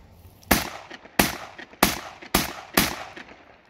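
An automatic hunting shotgun fires five sharp, loud shots in fairly even succession, each blast trailing off in a short echoing decay, with no voices.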